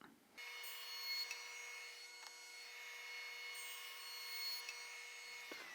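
A jointer planes a rough-sawn wood board, starting abruptly into a steady, loud motor whine with a cutting hiss that swells and eases as the board passes, then stops.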